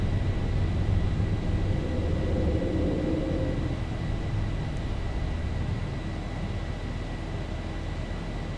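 Zibo Boeing 737 in X-Plane 11 climbing after takeoff, a steady broad engine roar with low rumble that eases slightly as it goes, continuous and without talk.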